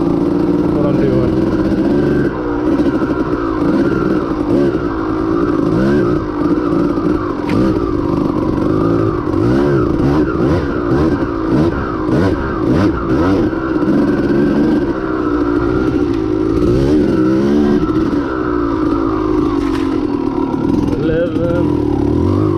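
A 1992 Kawasaki KDX200 two-stroke dirt bike rides steadily with its engine droning, rising and falling through revs as it goes, loud and close for the whole stretch, with wind buffeting over it.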